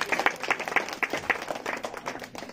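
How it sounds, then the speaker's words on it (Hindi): A small crowd at a silver jubilee family celebration claps in short bursts of moderately loud hand claps that fade after a couple of seconds. "एक बार ताली"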